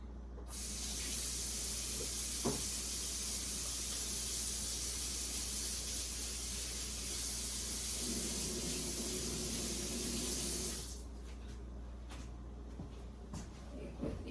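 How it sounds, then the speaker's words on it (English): Running water from a kitchen tap hisses steadily while a cleaned food-prep item is rinsed, with brief shuffling and handling noises under the flow before the water cuts off near the end. "cleaned it with soap and water. So now I'm rinsing it."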